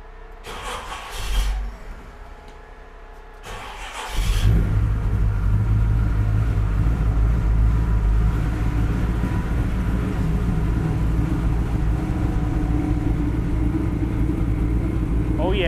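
A big 383 stroker V8 in a 1972 Chevrolet C10 truck cranks briefly, catches after a short pause and settles into a loud, steady, rumbling idle that continues to the end.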